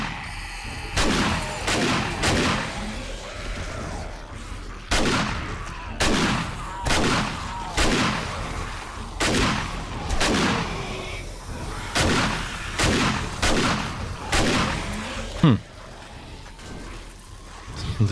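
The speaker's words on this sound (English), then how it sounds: "The shotgun is just overpower." Repeated shotgun blasts during a horde night in the survival video game 7 Days to Die, Alpha 19, sounding in a loud irregular series of heavy booms about a second apart, with faint talk at times.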